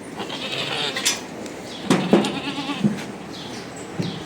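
A sacrificial goat bleats several times at close range while being weighed, short wavering cries over a busy background with some clatter; no one speaks.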